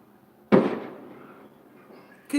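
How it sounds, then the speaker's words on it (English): Fireworks going off outside, one sharp booming burst with a rumbling decay and a second crack starting at the end, distant but loud against quiet. "I hope that's fireworks."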